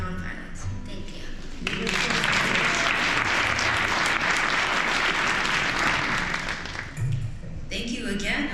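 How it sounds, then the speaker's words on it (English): A warm round of applause from a crowd at an MLK celebration ceremony swells quickly and holds loud and dense before briefly dipping and carrying on, with voices and short speech heard at the start and end. "Let's give another warm round of applause"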